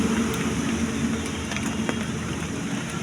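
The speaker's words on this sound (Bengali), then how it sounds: "মানে এত বৃষ্টি হচ্ছে কি বলবো আর, মানে বাইরে বেরোনোই যাচ্ছে না" Heavy storm rain pours down on a dark street, a loud, steady broadband hiss with scattered drop impacts, continuous and close throughout.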